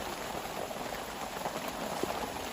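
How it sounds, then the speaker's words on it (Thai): Heavy rain falls in a forest beside rivers during a storm, a dense, steady hiss of drops pattering on surfaces with scattered louder splashes, continuous and close, with no talking. "ฝนมาอีกแล้วนะครับ โคตรแรงเลย"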